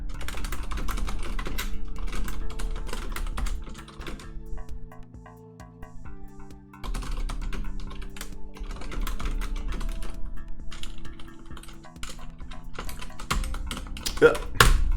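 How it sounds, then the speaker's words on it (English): Computer keyboard typing in quick, irregular bursts, loud and close, with a brief pause midway and a sharp clack near the end, during a Netrunner card game session. "this is early afternoon typing. So me being chaotic and typing."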